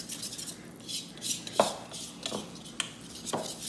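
Sweet bread dough for a Christmas fruit wreath is mixed by hand as flour is added, giving soft scraping strokes with a few sharper utensil knocks against the bowl, close and moderately loud, with no talking.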